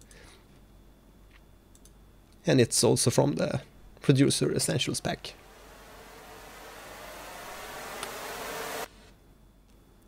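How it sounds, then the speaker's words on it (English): After a short burst of speech, a hissing noise-riser sweep from a sound effects pack swells steadily louder for several seconds, then cuts off abruptly. "And then we have a noise riser here."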